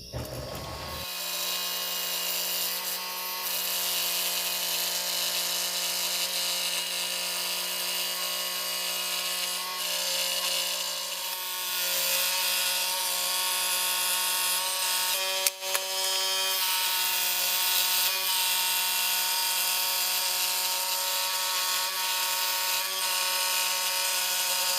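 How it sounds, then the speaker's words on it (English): A scroll saw cuts a small-diameter wooden circle for a DIY lantern, its blade buzzing in a steady close-up rattle that runs almost unbroken, with one brief knock midway and no talk. "I'm going to be using a scroll saw"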